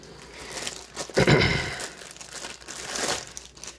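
Cardboard and plastic wrap on an Orient Kanno watch box crinkle and tear as it is cut open, a close, continuous rustling that swells to a louder burst midway and then trails into lighter crackling.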